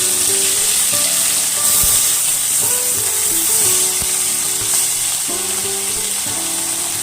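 Mourola fish sizzle steadily in hot oil in a wok, a loud, continuous frying hiss with crackles and faint stirring sounds throughout.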